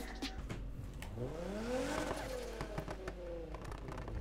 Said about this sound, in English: Oh, listen to the turbo.